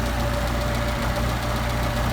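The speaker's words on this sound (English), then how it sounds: "see how rough the engine is?" A car engine with a Solex carburetor, its second barrel not opening, idles with a steady, uneven low rumble and a faint knock, continuous and close throughout.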